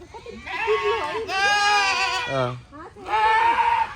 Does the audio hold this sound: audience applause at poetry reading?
no